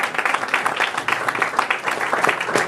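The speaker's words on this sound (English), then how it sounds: "Give yourselves a round of applause for those here." Audience applause at a lecture, a crowd clapping in a loose, fairly close burst that holds steady for a couple of seconds.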